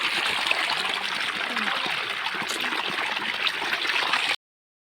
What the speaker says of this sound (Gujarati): અહીંયા પાણી આવે છે